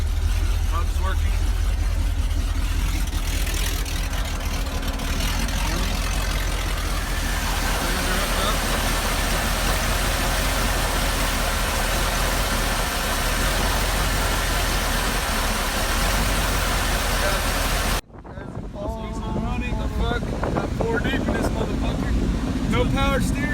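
A mud truck engine runs loud and close, a heavy continuous rumble buffeted by wind noise, then the sound cuts abruptly and the engine returns more quietly as people talk.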